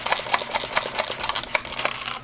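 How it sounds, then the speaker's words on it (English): A Buzz Bee Panther toy blaster pistol is pumped repeatedly, a quick run of raspy plastic strokes in an even rhythm, close and fairly loud with no talking. "So I'm going to go ahead and pump it 10 times first."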